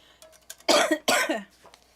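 Two harsh, forceful coughs in quick succession, close to the listener, with a few quiet breathy sounds around them.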